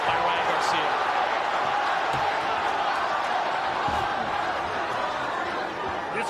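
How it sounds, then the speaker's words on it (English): A boxing crowd at the Ryan Garcia vs. Duarte fight roars at full voice in a steady, dense wash of cheering and chatter, with a commentator's voice running underneath. "This crowd already at full voice."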